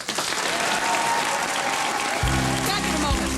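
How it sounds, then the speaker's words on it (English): A television studio audience gives Dr. Phil a loud, dense burst of applause and cheers that holds steady throughout, with a low musical sting entering near the end. "please give a warm round of applause for Dr. Phil"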